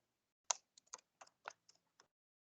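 A short command being typed on a computer keyboard: about seven crisp, close key clicks in an uneven rhythm, alone against near silence.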